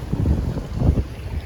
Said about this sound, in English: Still quite windy.